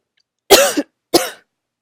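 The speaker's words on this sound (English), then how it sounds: "sorry, I'm gonna cough again" Two close, sharp coughs in quick succession, the first longer with a rough tail, then silence.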